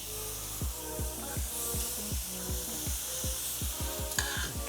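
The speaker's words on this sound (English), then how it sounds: "we're gonna get the steaks on over the coals" Steaks sear over charcoal coals outdoors on a cold day, a steady close sizzle and crackle running throughout, with repeated low thumps and knocks over it and a brief sharper clink near the end.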